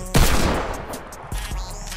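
Turret gunfire from the video game Fortnite comes in one loud, burst-like blast at the start, then rumbles on in a dense, echoing roll with a few further thuds.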